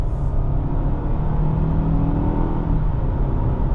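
A 2025 Nissan Altima AWD sedan with a CVT pulling onto the highway, heard from inside as a loud, steady rumble of road and engine noise, a brief rising whir midway, and no talk.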